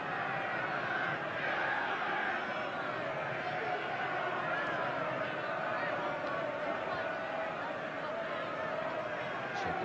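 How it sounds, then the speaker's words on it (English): A large football crowd at a sunny Brighton versus Liverpool cup tie in 1983, a steady, dense roar and murmur of thousands of spectators filling the stadium without pause. "Good crowd here enjoying some good competitive cup tie football in a really sunny conditions."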